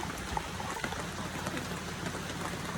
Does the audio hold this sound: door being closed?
no